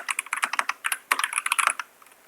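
Keys clatter on a computer keyboard as words are typed in a typing video game, quick bursts of close, crisp clicks separated by short pauses.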